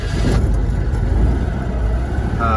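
A Citroën 2CV's engine running steadily nearby with a low, continuous drone as the car pulls away, no talk over it.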